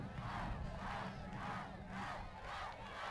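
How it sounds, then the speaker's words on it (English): Football crowd at a high school game between La Joya Palmview and PSJA Memorial, chanting for a touchdown in rhythmic surges that rise and fall about every half second over a steady background roar. "Crowd chanting for a touchdown, and they will get it"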